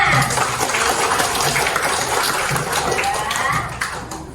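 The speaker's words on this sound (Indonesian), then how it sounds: "Tepuk tangan ya teman-temannya." A group of Indonesian schoolchildren in a classroom applauds in a dense, steady patter of clapping that continues for several seconds at close range.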